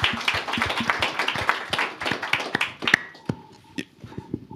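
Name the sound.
applause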